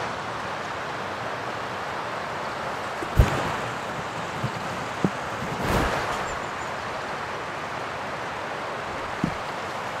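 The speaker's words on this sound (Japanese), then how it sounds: "反対側はもう川の音聞こえてると思いますが、すぐ目の前が川。" A river flows right beside a campsite at a roadside station with a camping ground, a steady, even rush of water heard alone, with a few faint knocks and no talking.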